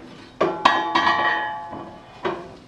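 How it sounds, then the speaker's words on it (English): A metal baffle plate is lifted out of a woodburner stove with a few sharp metallic clanks and clinks, the strikes ringing briefly and close by. "Then lifting the baffle plate"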